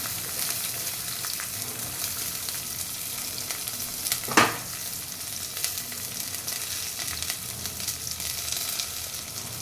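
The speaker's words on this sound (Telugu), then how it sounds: "ఇప్పుడు మనం ఇందులోకి ఆనియన్ వేస్తున్నాను." Onions fry in a pan for a Telangana-style bottle gourd dish, giving a loud, continuous crackling sizzle with one sharp burst midway as more go in, and no voices.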